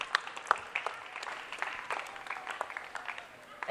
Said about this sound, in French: Est-ce qu'on peut applaudir pour Maman Kouloutou